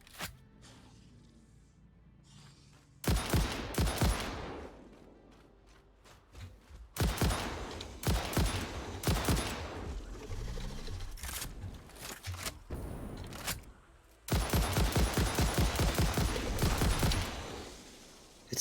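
Rapid bursts of gunfire from a weapon in the factory-building video game Satisfactory, coming in several loud clusters of fast repeated shots separated by quieter stretches, with no talk over them.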